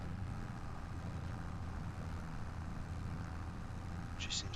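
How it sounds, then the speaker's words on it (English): Steady low engine drone of a vehicle running in top gear 4 high, holding even revs, continuous and moderately loud with no talk. "the engine's very happy with that"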